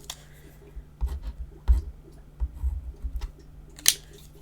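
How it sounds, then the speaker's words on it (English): Pen writing on a paper flap of a folio-style mini album, heard as sparse, soft scratches and taps close by, with a sharper click toward the end. "Let me just write on that quick."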